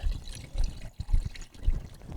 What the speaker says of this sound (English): I'm going to dispense a half of this jug of water in there